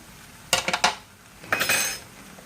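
A spoon clatters against a metal pot while seasoning is mixed into carne guisada stew, two short bursts of clinking scrapes, close and fairly loud, with no talk.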